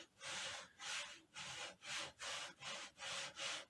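Rhythmic back-and-forth sanding strokes rasp against the inside of metal rifle scope rings, about eight even passes, close and fairly quiet with no talking.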